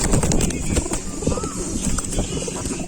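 Pigeons crowding and scrabbling for food on a George Town street in Malaysia, with busy fluttering, cooing and scuffling close by over street noise and nearby voices.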